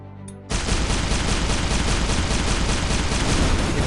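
Needler weapon firing in Shellshock Live, a loud continuous barrage of rapid game gunfire that starts abruptly after a brief pause and keeps a dense, steady crackle to the end, with no talk.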